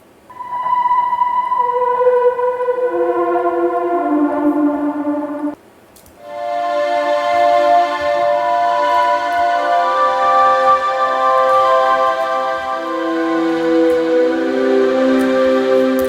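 Cinematic synth pad preset from a sample pack, sustaining loud, bright, layered chords that swell in, cut out briefly near the middle, then return and hold with shifting harmonies, with no talk.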